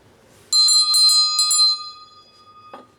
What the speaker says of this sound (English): I should also ring the bell